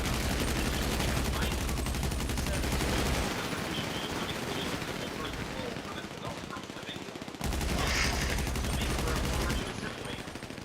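Rapid automatic gunfire in a video game firefight rattles almost continuously at close range, with a brief lull, and muffled voices beneath it.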